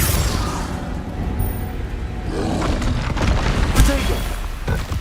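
A Confringo blasting spell explodes in Hogwarts Legacy, a deep booming blast with rumbling roar amid combat noise, with a sharper impact near the four-second mark.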